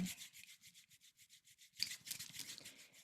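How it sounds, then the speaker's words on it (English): Palms rub together in quick, soft, rhythmic strokes, faint and close, pausing briefly and then resuming with a slightly stronger swishing friction. "together we can energize the medicine by rubbing your palms together"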